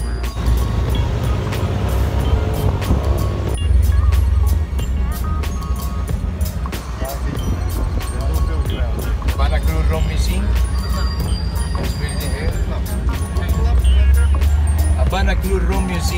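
A 1952 Cadillac open-top car rolls through the streets of Havana, its engine rumbling steadily under a constant rush of road and wind noise while people talk throughout.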